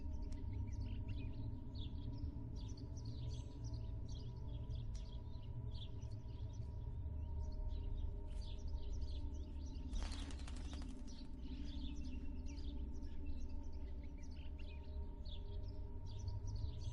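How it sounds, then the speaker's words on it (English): In the video game Martha Is Dead, a crow caws and chirps repeatedly over a steady low ambient drone, with a brief burst of wing flapping partway through; no one speaks. "An asshole crow."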